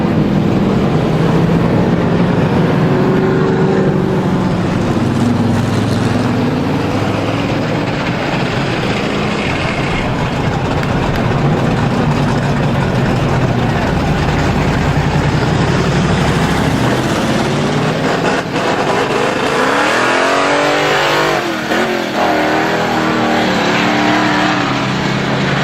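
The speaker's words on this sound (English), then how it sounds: "He has something dragging on that race car" A race car at Star Speedway runs by dragging a loose piece of another car's body, the steady loud engine roar mixed with continuous scraping and rattling, swelling with a passing sweep near the end.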